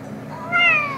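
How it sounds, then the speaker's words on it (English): A single clear meow, rising then falling in pitch, sounds close and loud over a faint background hum. "Meow."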